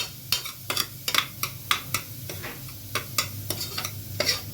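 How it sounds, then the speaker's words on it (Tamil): Onions sauteing toward golden brown for a homemade vegetable soup, with a soft sizzle under sharp, rhythmic clicks and scrapes of a spoon stirring against the pan, close up, with no talking. "ஓரளவுக்கு நல்லா ஒரு கோல்டன் ப்ரௌன் கலர் வர வரைக்கும் நம்ம அதை வதக்கினா போதும்"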